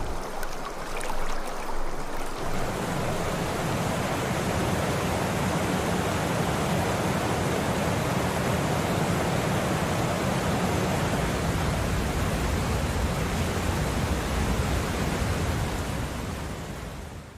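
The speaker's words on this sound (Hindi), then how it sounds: "ये है इस रूट का दूसरा वाटरफॉल, जो बिल्कुल रोड के किनारे पर है" Roadside waterfall on the Dehradun–Mussoorie route, dropping some 15 to 20 metres beside a bridge, gives a loud, steady, broadband roar of falling water that holds unbroken from near the start to the end.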